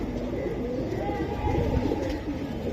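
Pigeons coo softly in a loft of show and flying birds, a steady low murmur running through the short stretch with little else standing out.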